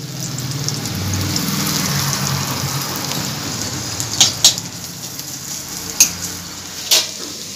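Onions fried until reddish sizzle steadily in a pan as ginger paste is added, with a continuous close frying hiss and a few sharp spoon clinks against the pan near the end, no talk.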